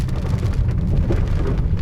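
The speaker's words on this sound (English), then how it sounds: "there's also now much more rain here" Heavy rain in New Plymouth, New Zealand pours down in a dense, steady hiss with a low rumbling undertone, loud and close, with no voices.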